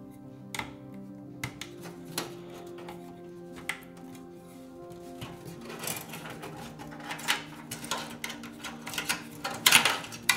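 Small screws being driven by hand to fasten a component inside a budget gaming PC build, heard as scattered metallic clicks, taps and scraping that grow busier and louder toward the end, with no talking.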